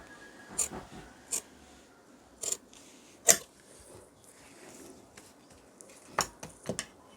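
Scissors snipping through cloth while cutting a curved pant front, a handful of short crisp cuts scattered across a quiet room with long pauses between them.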